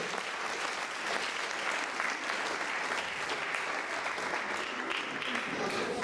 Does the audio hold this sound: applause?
yes